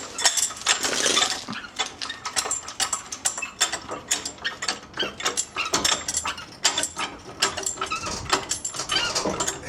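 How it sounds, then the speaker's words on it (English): Jack under the rear axle of a boat trailer with surge brakes being pumped, giving rapid repeated metallic clicks and ratcheting clanks in an uneven rhythm, close and fairly loud. "You want to jack it up to where it's just off the ground"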